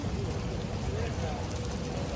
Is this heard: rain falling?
yes